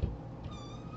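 A young kitten from a litter of Dream-type kittens gives a single short, close meow, alone with no talking.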